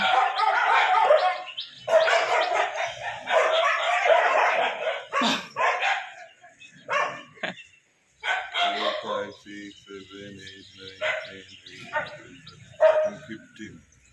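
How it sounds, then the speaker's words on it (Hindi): Several street dogs bark, yip and howl in repeated overlapping bursts, fairly close and loud, with quieter gaps between volleys and a person talking at times. "कभी हाउल करते हैं, कभी बार्क करते हैं, कभी मारा मारी करते हैं। कुत्तों के शोरों से मतलब जीना मुश्किल हो गया है।"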